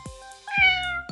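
A yellow cat in a video game meows twice, clear and close. Each meow is a bright, drawn-out cry, and steady synthetic tones from the game ring beneath it.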